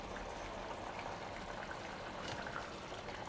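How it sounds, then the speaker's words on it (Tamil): Water boiling in an open pot for tomato rice, a faint, steady bubbling simmer with a small clink near the end. "இப்போ தண்ணி நல்லா கொதிக்குது."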